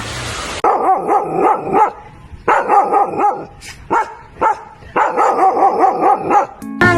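Children in a kindergarten class imitate a dog barking with their voices, three bursts of rapid woof-woof sounds separated by short pauses, loud and close.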